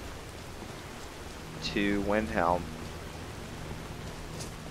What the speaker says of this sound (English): Rain's clearing up, or is it just turning into snow?